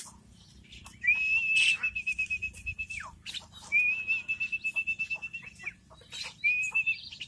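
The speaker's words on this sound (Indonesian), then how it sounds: "Setiap kita kasih makan kita bersiul dengan satu irama yang sama ya bos ya" A person whistles the same tune used at feeding time to call tame birds such as starlings: three long, steady whistles, each with a rhythmic pulsing warble, clear and close with no talk.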